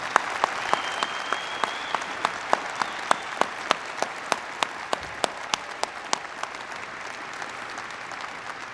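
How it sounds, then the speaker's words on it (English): Sparse, scattered applause at a university commencement ceremony, a light wash of clapping punctuated by distinct, evenly spaced loud claps from one nearby person, fading toward the end. "Round of applause."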